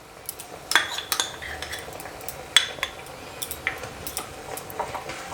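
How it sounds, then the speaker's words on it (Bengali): A spoon stirs grated coconut into milk cream (malai) in a pan over a medium flame, a patishapta pitha filling, giving scattered close clinks and scrapes against the pan with no talking. "এবার দুধের সরের সঙ্গে নারকেলটাকে খুব ভালো করে মিশিয়ে নিচ্ছি"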